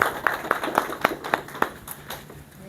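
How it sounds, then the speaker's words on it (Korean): A small audience at a beekeeping education meeting claps in a steady, even rhythm, with about eight crisp claps close together that fade toward the end in a quiet room. "자, 박수를 한번."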